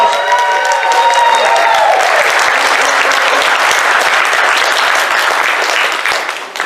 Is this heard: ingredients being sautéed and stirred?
no